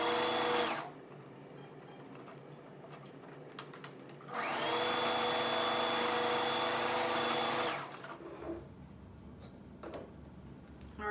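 A sewing machine stitches the shoulder seam of a puffer jacket, joining the front panel to the back panel. It runs as a steady, close motor whir in two bursts: a brief one at the start and a longer run of several seconds later, with quiet handling between.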